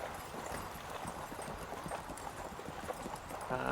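Horse hooves clip-clop in a steady, even rhythm close by, with a soft background wash and no voices.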